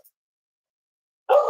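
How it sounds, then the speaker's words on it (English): A dog gives a single loud bark near the end, after more than a second of silence. "my dog is barking"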